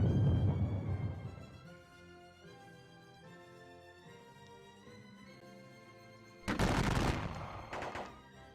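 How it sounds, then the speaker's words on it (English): Volleys of musket and rifle fire from a Gettysburg battle video game at Little Round Top, with a dense crackling burst at the start, a quieter stretch, then another loud sharp fusillade near the end. "Shoot at these guys for artillery."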